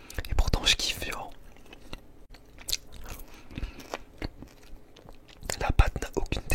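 Soft whispering mixed with close, wet chewing and biting of a slice of reheated pizza whose crust is neither soft nor crisp, with irregular bites and mouth sounds over several seconds.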